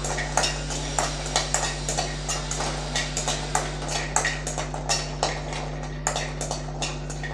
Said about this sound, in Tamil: அஞ்சு பல் பூண்டு அதை சேர்த்துடலாம் இதை நல்லா வறுத்து விட்டுக்கலாம்